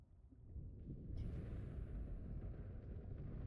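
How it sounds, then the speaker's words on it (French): Low, heavy rumbling thunderstorm outside in the video game Subnautica Below Zero, a steady loud roar of thunder swelling after the first second and continuing throughout with no talk. "Et de l'orage dehors. Dans le jeu."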